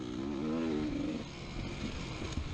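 A GASGAS XC300 dirt bike engine runs loud and close during a race, with a rising, wavering tone early on that settles into a rougher, steady drone.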